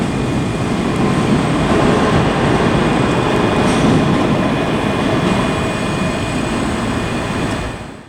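Class 385 unit 385037 from Stirling pulls into Glasgow Queen Street terminus with a loud, sustained rolling rumble and a thin high whine, tapering off at the very end.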